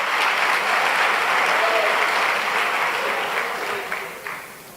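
A church congregation breaks into a dense, steady wave of applause that sustains for several seconds, then thins and fades near the end, with no voices over it.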